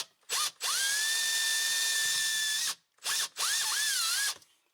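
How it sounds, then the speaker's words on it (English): A small drill bit bores a hole for a Honda Talon Ice Crusher cab heater, the power drill whining steadily at high pitch in three close bursts with brief stops between. "if you just want to get to it, you could go like this with a small drill bit"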